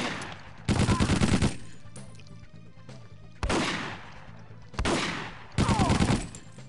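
Bursts of gunfire in the shooter 007: The World Is Not Enough, several separate loud volleys of rapid shots broken by quieter gaps, close and harsh.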